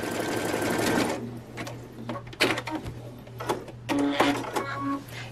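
Sewing machine running a zigzag stitch over a patch on denim jeans, bursts of fast rhythmic whirring that stop and restart several times, close and clear with a steady low hum beneath.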